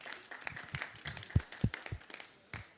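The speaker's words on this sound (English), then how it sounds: "Applause for the team." A small audience at a food-systems session claps for the team, a thin scattering of separate, uneven hand claps at close range, fairly quiet and trailing off.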